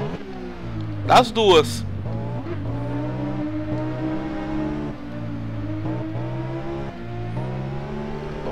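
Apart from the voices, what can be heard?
Suzuki motorcycle engine revving in racing video game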